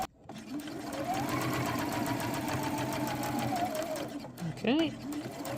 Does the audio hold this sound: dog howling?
no